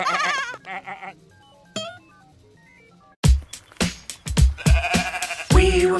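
Several sheep bleat in quick succession, wavering calls close by, after a few quieter bleats at the start, with a busy burst of overlapping bleats later.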